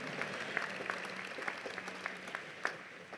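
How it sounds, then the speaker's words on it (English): Audience applause at the University of Virginia School of Law 2014 graduation ceremony, a steady dense wash of clapping from a large crowd with a few sharper individual claps standing out, no voices. "It's definitely the only applause I ever got anywhere near law school"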